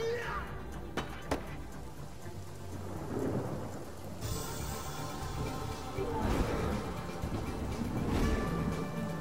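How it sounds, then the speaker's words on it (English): Steady rain pours with rolling thunder rumbling through, storm ambience from the video game Divinity: Original Sin, while a voice talks intermittently over it. "Some rain."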